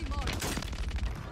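Rapid gunfire in the video game Warzone 3 crackles as a dense burst of shots, loud and close throughout, with a player talking over the firing.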